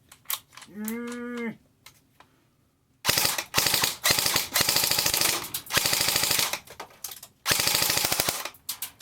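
An ICS G33 airsoft gun fires on full auto in several long, close, rapid bursts separated by brief pauses, after a short tonal sound at the start.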